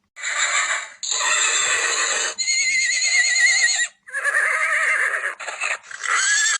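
A horse neighs in a string of loud, close whinnies, around five of them, separated by short gaps, with no speech over them.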